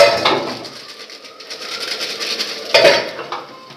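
Pots and dishes scrubbed in a home kitchen while Maggi noodles cook, giving a steady close scraping and clinking with a sharper clatter near the end, no voices.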